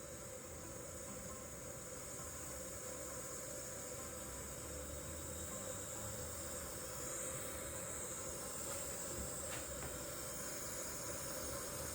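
Steam hissing steadily from a Russell Hobbs pressure cooker as it comes up to seal, a constant faint broadband hiss with no talk.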